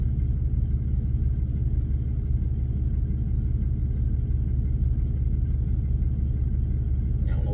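A truck engine drones in a steady, loud low rumble heard from inside the cab while driving, constant throughout with no speech.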